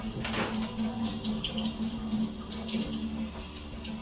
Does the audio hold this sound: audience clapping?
no